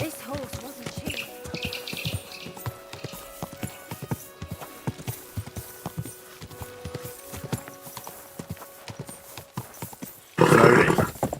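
Horse hooves clip-clop at a steady walking rhythm in Kingdom Come: Deliverance II, close and clear over faint game ambience and brief speech, ending with a louder burst of noise.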